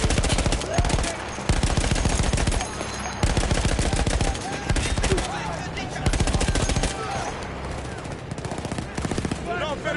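A machine gun fires in Battlefield 1, with loud, close, rapid bursts repeating almost continuously over background battle noise.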